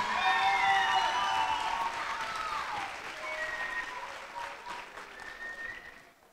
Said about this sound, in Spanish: Un fuerte y merecido aplauso,